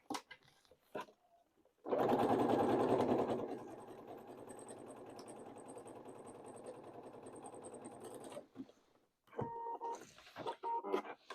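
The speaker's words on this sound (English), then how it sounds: "I'm going to change my stitch to a zigzag stitch. And you're just going to zigzag the two pieces together" A sewing machine zigzag-stitches two overlapping faux leather pieces for pants, running loud and steady for several seconds and then slowing to a quieter hum. A few short stitching bursts follow after a brief pause.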